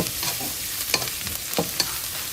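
A steady close sizzle of stir-frying in a pan with brown sugar, punctuated by repeated scraping and clacking strokes of a spatula, no voices present.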